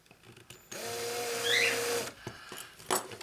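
Power drill grinding off the rivet cap on a Hot Wheels Sweet 16 Firebird toy car with a larger bit, a steady close whine lasting over a second between brief handling clicks.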